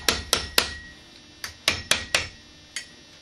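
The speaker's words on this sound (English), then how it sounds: "I take a mallet. I'm sure this is exciting to watch. And I just hammer it out." A mallet hammers bent metal around a handle while a Freddy glove is made, seven sharp metallic strikes in irregular clusters, close and ringing briefly, with quiet pauses between.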